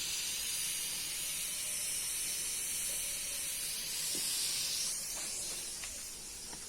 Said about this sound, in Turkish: Nohut yemeğin pişiyor sobanın üzerinde.